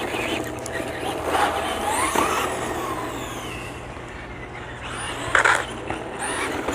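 A Traxxas Stampede 2WD RC truck drives on dirt, its small motor whining and surging with scraping and crunching off the ground and a sharp clatter partway through, heard at moderate distance.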